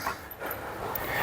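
A giant Caucasian shepherd dog pants with quick, steady breaths close by, a continuous rough breathy sound lasting about a second with no talk over it.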